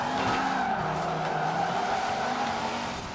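A Peugeot 205 rally car skidding and sliding in Forza Horizon 4, a sustained loud tire squeal over steady engine drone, continuous for a few seconds, no talking.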